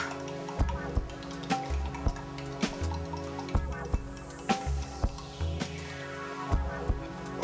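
A bar spoon stirs a pinch of salt into a chocolate mint cocktail, giving a steady run of light clinks and ticks at a regular rhythm, close and fairly soft, over a low tonal background.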